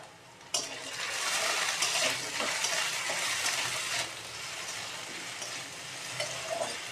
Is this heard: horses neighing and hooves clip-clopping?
no